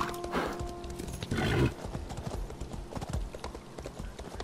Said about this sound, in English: I still need to upgrade my horse and make him go fast